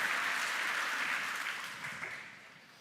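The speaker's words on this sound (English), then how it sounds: "So round of applause for that." Applause from a conference audience, steady clapping at first that gradually thins out and fades over a few seconds.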